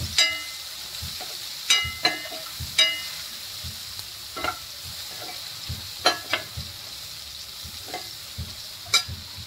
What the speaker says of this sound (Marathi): आता याच्यात आपण हळद घालूया, मिक्स करूया